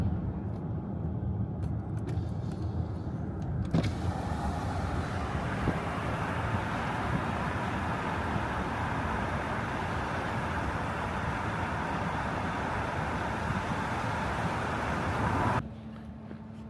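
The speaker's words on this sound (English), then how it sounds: "Just parked the car at the hotel," A car engine drones steadily and fairly loud while driving up to a hotel in Scotland, then cuts off abruptly near the end as the car parks, leaving a quieter hum.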